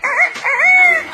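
A parrot imitates a rooster's crow, a close, loud, drawn-out cock-a-doodle-doo with a rising and wavering pitch, heard alone.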